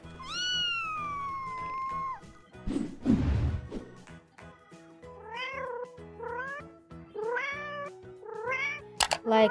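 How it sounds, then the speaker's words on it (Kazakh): A cat meows several times, a long drawn-out cry followed by shorter rising meows, close and clear, with a brief crash-like burst between them. "Мысық."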